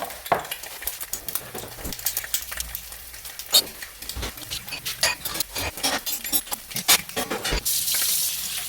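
Water runs and splashes in a kitchen sink during cleanup while eggs cook on the stove, with scattered clinks and knocks of dishes and a steady gush swelling toward the end.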